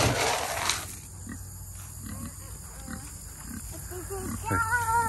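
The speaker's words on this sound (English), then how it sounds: "Pig, pig, pig, pig." Pigs on a farm grunt and squeal at close range, short repeated snorts and higher squeals spread through the stretch, while a person speaks over them.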